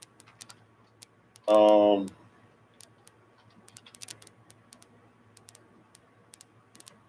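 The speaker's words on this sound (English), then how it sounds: "I'm sorry, I'm typing" Sparse, irregular clicks of keys on a computer keyboard tap away in a quiet room, with a brief burst of a person's voice early on, then typing continuing alone.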